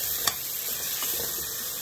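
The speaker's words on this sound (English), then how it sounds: "We're just gonna keep sauteing them" Turkey necks sautéing in a pan: a close, steady sizzle with a single sharp tap of a utensil early on, then continuous crackling frying alone.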